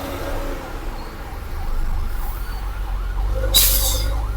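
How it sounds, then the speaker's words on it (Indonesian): An ambulance siren wails through a flood-bound traffic jam, its rising and falling tone fairly faint and distant over a low idling engine rumble, followed by a sharp bright burst near the end. "Tuh ada ambulans tuh."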